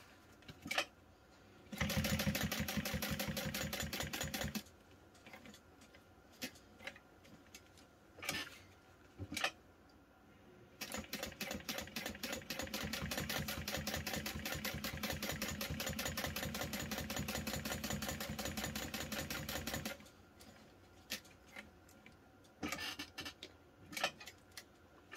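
A sewing machine stitching a clutch wallet at a long stitch length runs in bursts of rapid, even mechanical ticking, with short pauses between runs, close and fairly quiet.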